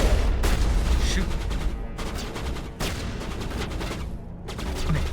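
Rapid bursts of video game gunfire crackle through a dense, busy mix with recurring volleys, heard alongside background voices.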